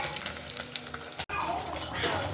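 Paneer gravy tempering sizzles steadily in a hot pan, a dense continuous crackle with one brief dropout midway, close and fairly loud with no voices.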